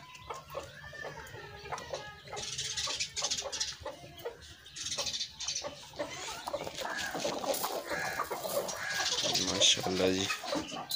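A pet rooster named Shamu clucks and calls repeatedly at close range among other chickens, the sounds mixed with someone talking over them.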